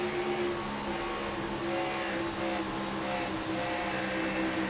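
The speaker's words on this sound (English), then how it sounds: "you can hear him feathering that throttle" Race car engine in a NASCAR-style racing game, the driver feathering the throttle, heard as a loud steady drone with slight pulsing in pitch, continuous throughout.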